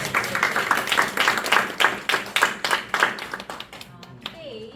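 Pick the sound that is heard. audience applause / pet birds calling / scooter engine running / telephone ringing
audience applause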